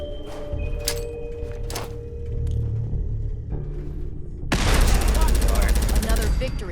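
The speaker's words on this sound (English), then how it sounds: "Let's start out with a frag grenade," Gunfire and a frag grenade blast in the Fallout 4 game, with scattered shots and rumble at first, then a loud dense burst of rapid fire and explosion near the end.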